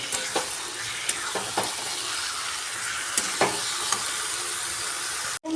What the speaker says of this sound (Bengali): চিকেনটা আমি এর মধ্যে অ্যাড করে দিলাম দিয়ে এটাকে একটু হাই ফ্লেমে তিন থেকে চার মিনিট খুব ভালো করে কষাতে হবে